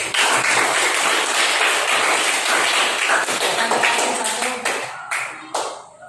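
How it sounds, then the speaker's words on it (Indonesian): Classroom students clap together in a loud, dense burst that thins out toward the end, with a few last claps trailing off. "Kasih tepuk tangan dulu untuk"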